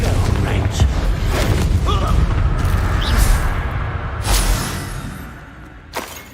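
Bombarda spell explosion in the Hogwarts Legacy video game, a booming blast amid continuous game combat noise, followed by another burst near the end, with a player shouting over it.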